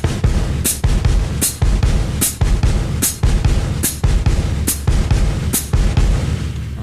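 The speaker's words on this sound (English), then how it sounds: "You'll go back and forth between your kick drum and hi-hat like this." Samba foot pattern on a drum kit alternating kick drum and hi-hat, deep thuds trading evenly with crisp hi-hat chicks at a slow, steady pace, loud and close, no talking.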